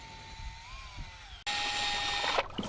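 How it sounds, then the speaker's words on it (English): A powered drill with a paddle mixer whirs at steady low speed while stirring Delaminator coating material, its motor tone shifting as the load changes, then rising louder and rougher partway through. "Mix material with a powered drill at low speeds until it is uniform color and consistency"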